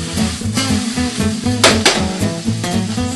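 Borscht vegetables sauté in a pan with garlic, a busy sizzle under repeated scraping and tossing, with two sharp bright clatters midway as the pan is flipped.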